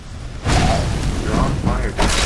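In Skyrim, an enemy goes up in flames with a loud, close whoosh and rumbling burst of fire that swells twice over about two seconds.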